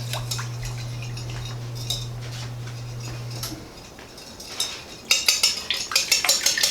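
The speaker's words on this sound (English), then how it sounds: "I'm going to give this a good whisk and add a pinch of salt." Eggs and milk are whisked in a bowl with a pinch of salt, a steady hum fading out before quick, rhythmic metallic clicks of the whisk against the bowl.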